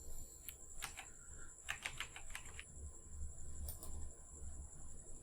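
Computer keyboard being typed on to enter a login ID, with faint, scattered key clicks in short bursts over a steady background hum, quiet and without speech.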